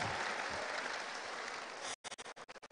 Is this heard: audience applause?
yes